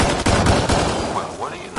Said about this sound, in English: Go ahead and shoot the rock or something.